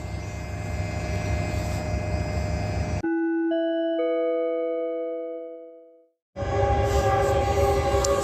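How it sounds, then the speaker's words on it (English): A Metrolink commuter train rolls past at a level crossing, a loud steady rumble with a sustained multi-tone horn that rings out as the noise cuts away, then the heavy passing roar returns. "That was Metrolink crossing path"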